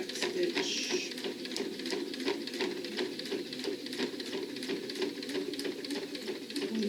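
A sewing machine back stitches through the layers of a zippered pouch with handles, a steady rapid patter of needle strokes running throughout at a moderate, even level.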